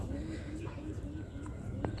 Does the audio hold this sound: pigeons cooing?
yes